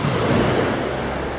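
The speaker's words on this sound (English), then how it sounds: "There is the beach." Surf at a beach at the Sandals Royal Plantation resort in Ocho Rios, Jamaica: a continuous loud wash of breaking waves with some wind noise, with no talking.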